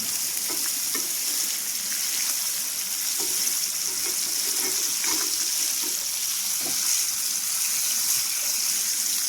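Barramundi fish fillets fry in a pan after being turned to the other side, giving a steady, loud, continuous sizzle of hot oil with scattered pops and crackles throughout.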